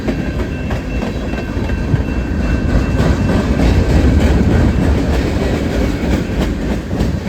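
A freight train on BNSF tracks, pulled by Canadian Pacific locomotives and carrying empty lumber cars, rolls past close by with a loud, continuous rumble and steady clickety-clack of wheels over rail joints.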